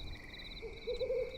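An owl gives a low, short hoot at night in the Danube wetlands, fairly faint and brief, set against a steady, thin insect chirring.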